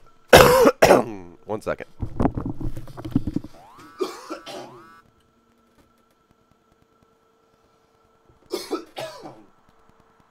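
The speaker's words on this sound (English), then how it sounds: "coughing up that yellow shit" A few harsh, loud coughs up close from a video game (Factorio), followed by talking and throat noises, then a quiet pause before two more brief coughs.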